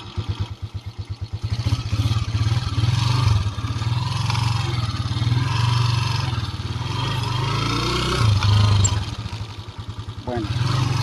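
Motorcycle engine running steadily while hauling about 80 pounds of cargo plus a rider on a rural road, a loud continuous low rumble with some rattling, close by, with someone speaking over it.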